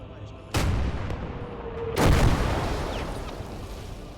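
A 122 mm tank gun fires in a video game, two heavy booming shots about a second and a half apart, each followed by a long rumbling decay.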